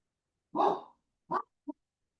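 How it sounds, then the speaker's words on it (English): A pet dog indoors gives three barks, one longer bark followed by a shorter one and a small clipped yip, close and alone against silence. "my dog is just having a night tonight"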